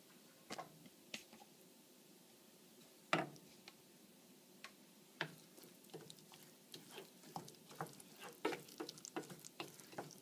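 Homemade organic oatmeal with mixed ingredients stirred in a bowl, giving faint, soft, irregular clicks and scrapes of a spoon in a quiet room with no voices.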